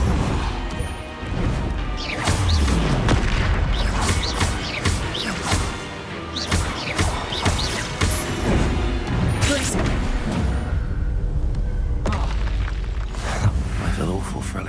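Spell blasts and impacts in the video game Hogwarts Legacy, a dense, loud stream of crashing booms and whooshes with music underneath, lasting throughout.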